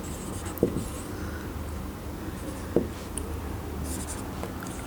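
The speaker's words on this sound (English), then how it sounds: "I'll write D for decidua" Marker or chalk writing on a board during an anatomy lecture, faint steady scratching strokes under a constant room hum, with a couple of soft taps as the pen meets the surface, no voice heard.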